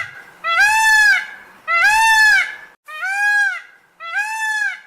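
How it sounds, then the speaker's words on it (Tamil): Four loud, drawn-out wailing calls ring out one after another with short pauses, high and nasal, like a peacock crying nearby. "மயில்."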